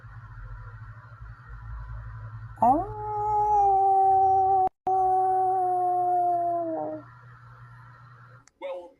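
A wolfdog's howl rises, holds a long steady tone for several seconds, then drops away over a low background hum, with faint noises before and after.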